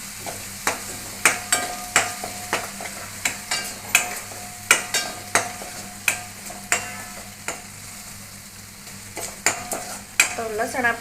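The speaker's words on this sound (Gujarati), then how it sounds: "તો લસણ આપણું કકડી ગયું છે." Garlic, cumin and asafoetida frying in oil, a steady sizzle under repeated sharp clinks and scrapes of a spoon stirring in the pan, close and fairly loud, with no voices.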